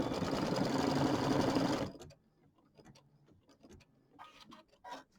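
An embroidery machine stitches a placement line for small appliqué letter pieces on a quilt square, a loud steady mechanical whir for about two seconds that stops abruptly, followed by faint clicks and light handling noises.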